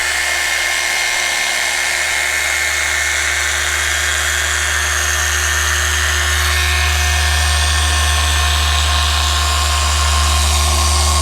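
A rotary polisher spins its pad on the painted body of a 2018 Ford Raptor during paint correction, a loud, steady electric whine with a low motor hum, continuous throughout and close up.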